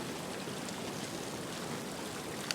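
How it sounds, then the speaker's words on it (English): A waterfall in the video game The Long Dark rushes in a steady, continuous wash of water. It sounds moderately distant and quiet, with no talking. "It's right next to a waterfall too."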